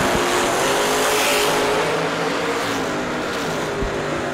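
A sticker dragster race car runs on a drag strip lane at a bracket racing event, its engine a loud, steady broadband roar throughout with no talk over it.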